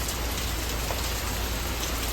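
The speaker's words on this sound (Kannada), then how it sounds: "ಮಳೆ ಬೀಳ್ತಾ ಇದೆ" Steady rain falls on surfaces outdoors, a continuous even hiss of drops at moderate volume with no voices present.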